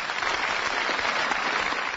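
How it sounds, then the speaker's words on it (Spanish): Dense, steady applause from a large audience following phrases of a Margaret Thatcher speech, loud and continuous throughout with no voices over it. "Así eran sus discursos después de la guerra, ante cada frase, un aplauso"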